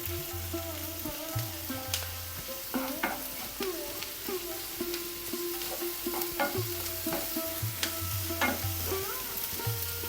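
Crushed ginger and garlic sautéing in a pan for a ridge gourd and mango curry, soft sizzling under repeated spoon taps and scraping against the pan, no talking.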